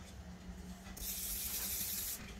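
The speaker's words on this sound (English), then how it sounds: "So let's get spraying." A few seconds of alcohol hand spray misted from a bottle during a fidget toy unboxing: one steady, loud hissing burst of about a second, close by, with faint room noise before and after.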